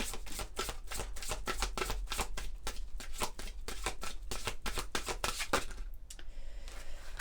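A deck of tarot cards is shuffled by hand in a rapid run of close, crisp riffling flaps that stop abruptly near the end, followed by a softer card handling.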